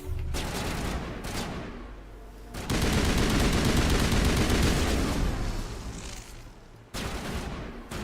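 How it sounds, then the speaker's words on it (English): Shotgun blasts in the sci-fi game Mass Effect, heavy booming shots amid continuous roaring combat noise, with loud bursts early and late around a dense sustained stretch of firing; no voices. "Let's take this new shotgun for a spin here"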